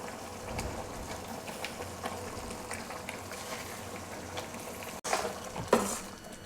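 Garlic tomato thokku simmers and fries in a pan with steady bubbling, spoon stirring and scraping throughout, plus a few louder clatters near the end, close and alone.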